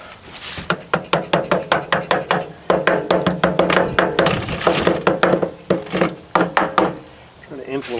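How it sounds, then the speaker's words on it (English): Hammer blows on the chain links of a NOMA 8hp snowblower, landing as a rapid run of sharp metallic knocks, close and loud, with short pauses between bursts. "going to take the hammer."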